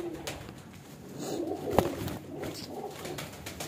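Breeding pigeons coo softly in a loft, a low murmuring coo rising and falling steadily throughout with one brief louder accent midway, no talking over it.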